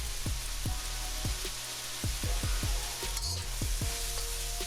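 Baby corn stir fry with ginger paste being stirred in a pan, a steady sizzle broken by repeated short scraping strokes and clacks of a utensil, fairly close and with no talking.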